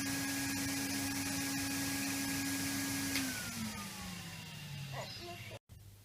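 A Henry Hoover vacuum cleaner drones loudly and steadily close by, then its pitch slides downward as the motor winds down after being switched off.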